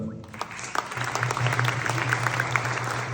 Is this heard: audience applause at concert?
yes